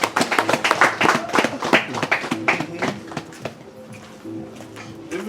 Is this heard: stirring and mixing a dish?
no